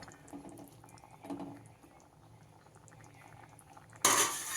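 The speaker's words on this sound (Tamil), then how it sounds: "தேங்காயை ஊற்றி கொஞ்சம் கொதிக்க விடுவோம்" Quiet bubbling and gurgling of a coconut masala for baby jackfruit fry simmering in a pan, with soft pops throughout and a louder hiss near the end.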